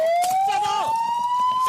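A police car siren wails continuously during a chase after a vehicle that refused to stop, a single steady rising tone held loud and close with a brief warble midway, faint voices in the background.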